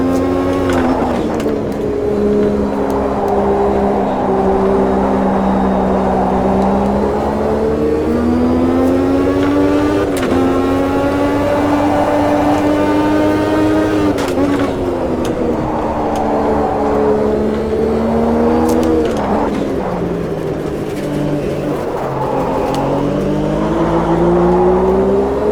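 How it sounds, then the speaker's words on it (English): A 1989 Formula 1 race car engine screams at Jacarepaguá, its pitch rising and falling through gear changes as it charges down the back straight, loud and steady for the whole stretch with no voices. "we've got a quick car down the back straight"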